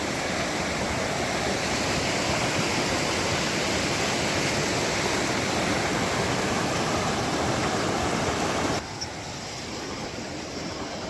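Steady broadband rush of flowing water at a swimming hole in Montana, loud and continuous with no talk, dropping slightly in level near the end.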